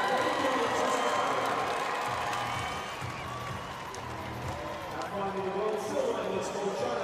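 A crowd of about 20,000 at London Olympic Stadium during the World Para Athletics Championships roars and applauds in a broad, sustained wash, with a commentator talking over it.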